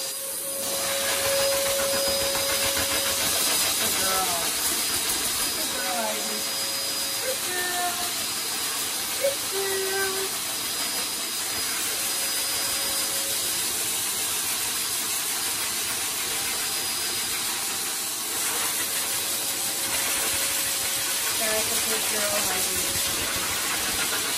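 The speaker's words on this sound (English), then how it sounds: "She's really good with the dryer, so I'm just going to put the nozzle back on and keep it on low." Pet grooming dryer with a nozzle fitted, running on low while drying a Golden Retriever, a steady breathy whoosh of air throughout with faint shifts and handling noises over it.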